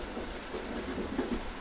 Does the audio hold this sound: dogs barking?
no